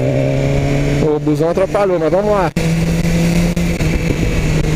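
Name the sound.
BMW S1000 R naked motorcycle engine revving through a curve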